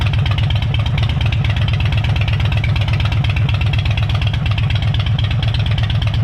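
A Harley motorcycle engine idles loudly and steadily at close range, with a continuous throbbing, slightly uneven rumble throughout and no talking.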